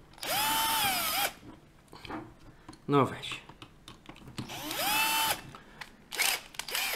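A power screwdriver whirs in short bursts while unscrewing the brewing unit of a Nivona coffee machine, with close clicks, rattles and brief speech between the runs.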